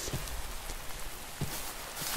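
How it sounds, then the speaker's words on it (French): Rain falls in Minecraft as a steady hiss of pattering drops with a few faint soft taps, continuous and even with no voices. "comme il pleut"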